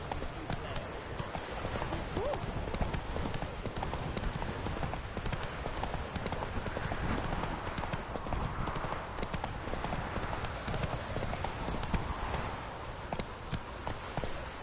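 A horse galloping in The Witcher 3: Hearts of Stone, with dense, rapid hoofbeats drumming steadily and close throughout, and voices faintly underneath.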